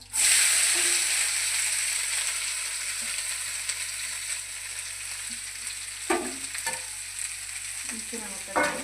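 Curry leaves stirred into a frying curry, with a steady loud sizzle from the start that eases slightly, then a few scraping stirs near the end, no voices.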